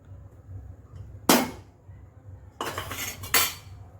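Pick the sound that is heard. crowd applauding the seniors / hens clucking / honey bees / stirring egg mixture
stirring egg mixture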